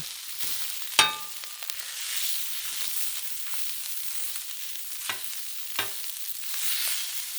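Hot dogs sizzling on a griddle, giving a steady hissing frying sound that runs throughout, with a few sharp clicks and taps of utensils near the start and toward the end.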